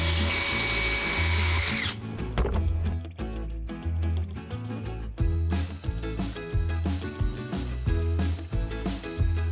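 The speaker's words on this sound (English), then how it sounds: "Drilling more pocket holes." Power drill boring pocket holes into a wooden panel, several bursts of whirring with short pauses between, loud and close with no talking.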